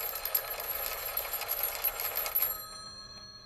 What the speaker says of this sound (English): disciplined people hear the same alarm